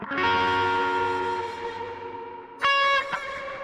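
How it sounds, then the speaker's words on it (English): A distorted, effects-heavy rock passage from a Ween demo recording sustains, then breaks into a loud burst whose repeats ring out as a big junky echo tail, with no talking. "You hear what I'm talking about with having those big, fun echo like endings?"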